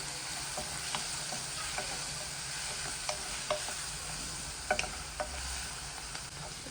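Onion and chili frying and being stirred in a pan, a steady broadband sizzle with scattered utensil scrapes and taps, several sharper knocks near the end, no talking.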